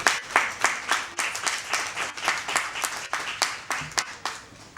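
An audience applauds at a dance festival with a brisk, fairly loud round of clapping that pulses in rhythmic waves and runs steadily for several seconds, with no talk over it.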